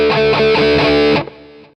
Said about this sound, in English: you can gradually go from clean to distorted sound.